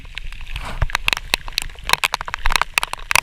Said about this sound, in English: little bit of a rain squall.